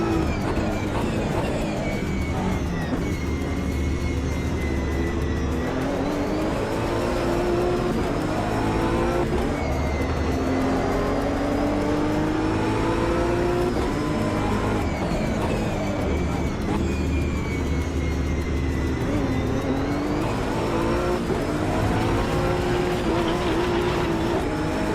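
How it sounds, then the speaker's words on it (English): A race car in Project Motor Racing sim gameplay, its engine revving up and down through gear changes in a continuous loud whine and drone, with repeated rising pitch sweeps and no talk. "I don't know if this game has not captured the audio or not, but this car does not sound great"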